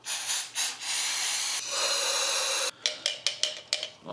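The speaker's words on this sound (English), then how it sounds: "Brake cleaner here." Aerosol brake cleaner is sprayed onto a lawn mower carburetor fouled with soap residue: a long loud hiss broken into bursts, then a run of short rapid spurts, close up.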